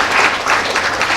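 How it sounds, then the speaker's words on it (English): Audience at a court event with Kenya's Chief Justice applauds. The clapping is dense and steady, holds for the full moment, and no one speaks over it. "Clap for yourselves."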